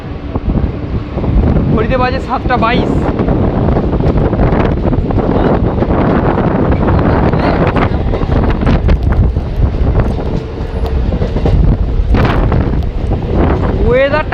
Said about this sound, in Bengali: তবে আপনারা হয়তো মাইকে হাওয়ার আওয়াজটা অনুভব করতে পারছেন।